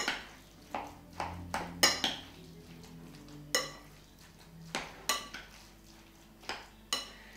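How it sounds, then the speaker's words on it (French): Dough mixture with autumn chanterelles being stirred in a bowl, utensil clinking and scraping against the bowl in a series of sharp, close taps at an irregular rhythm, with no talk. "Nous mélangeons également très finement, très intimement."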